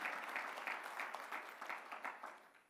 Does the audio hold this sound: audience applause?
yes